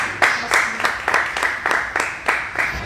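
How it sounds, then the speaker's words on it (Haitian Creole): A crowd claps in repeated bursts of applause at an evening entrepreneurship event honoring business leaders, the rhythmic clapping swelling and fading several times. "Applaudissez pour moi"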